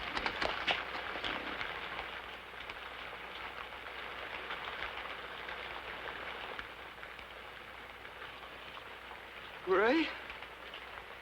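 Heavy rain falling outdoors makes a continuous, dense hiss that fills the scene throughout, with a voice briefly calling out near the end.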